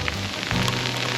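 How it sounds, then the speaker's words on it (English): Sleet and freezing rain coming down on a wooded lake trail in Winston-Salem, North Carolina, a steady close patter of icy pellets with a low rumbling background. "We got sleet, frozen rain, freezing rain, whatever you want to call it, coming down."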